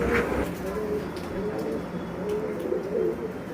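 Pigeons at a breeding farm in Khulna coo softly and repeatedly in low, murmuring phrases, close by, with faint chirps and light background noise.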